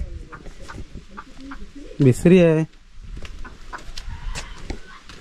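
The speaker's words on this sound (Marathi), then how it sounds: "कोंबड्यांना कसं जरा असा धोका वाटला की ओरडतात." Hens in a Konkan village squawk in alarm in one loud, harsh burst of several seconds, set among quieter farmyard noise, with a person speaking before it.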